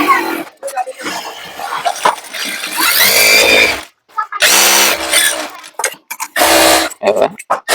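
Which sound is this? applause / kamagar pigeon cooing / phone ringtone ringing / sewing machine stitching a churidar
sewing machine stitching a churidar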